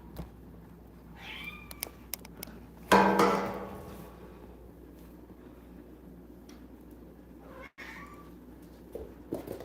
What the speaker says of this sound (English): The meowing you hear is Oreo.